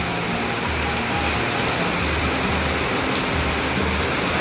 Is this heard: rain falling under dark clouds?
yes